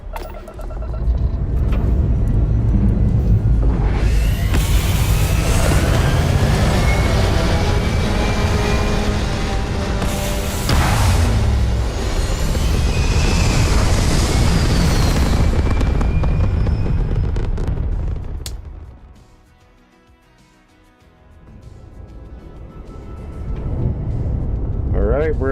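An old spaceship takes off in the Starfield video game, a loud, sustained roaring rumble that swells and holds for many seconds, then drops away briefly before the roar builds again.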